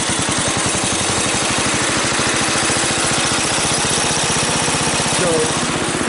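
A Bolens Husky 1050 garden tractor engine idles steadily and close by, a loud rhythmic chugging that keeps an even pulse throughout with no talking over it.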